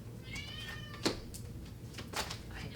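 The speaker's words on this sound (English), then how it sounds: "I apologize for the cat meowing in the background." A domestic cat meows in the background, a few drawn-out harmonic cries early on followed by soft thumps and rustles of handling, at moderate distance and fairly faint.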